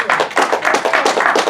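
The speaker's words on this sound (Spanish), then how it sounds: "Den un aplauso a Dios." A church congregation claps together in a quick burst of applause, close and lively, with dense rhythmic claps over under two seconds and no talking.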